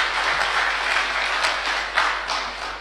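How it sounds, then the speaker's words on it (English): Audience applause follows a presentation at a professional gathering, a steady wash of clapping from many hands that holds for several seconds with no voices over it. "a second round of applause for Professor Msongole for that presentation"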